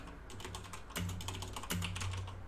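Rapid clicking on a computer keyboard while stock watch-list notes are typed up, steady close keystrokes with a couple of louder bursts of clacking and no voice over them.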